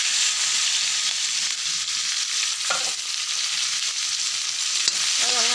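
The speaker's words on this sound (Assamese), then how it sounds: "আৰু ৰঙাকৈ ভাজি ল'ম পিঁয়াজখিনি পূৰা" Sliced large onions frying with five-spice seeds in oil already used for frying fish, a steady close sizzle with occasional stirring scrapes throughout, no voices.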